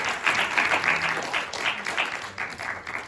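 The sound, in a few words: audience applause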